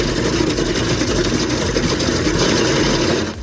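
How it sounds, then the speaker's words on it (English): A Vermeer RT1250 rock saw cutting through solid rock in a barren, dusty expanse, its engine roaring loud and steady with a heavy low rumble and grinding texture, cutting off abruptly at the end. "Engine roaring, it's epic."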